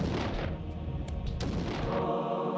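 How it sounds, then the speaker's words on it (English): Magical energy bolt spell from the video game Blood Omen: Legacy of Kain, a loud, dense, continuous crackling roar with booming low rumble that fades at the tail. "The energy bolt employs magical force in its rawest form."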